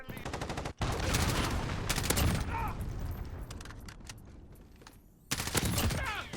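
An M4 rifle in Call of Duty Modern Warfare fires in rapid cracking bursts, loud and close, with a brief gap and a quieter stretch of mechanical handling before another burst of shots.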